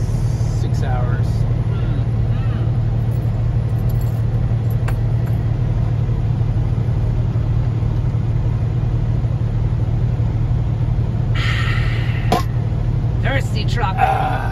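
Steady low engine rumble of a truck cruising on a highway, constant and close throughout, with brief higher-pitched noises and faint voices near the end.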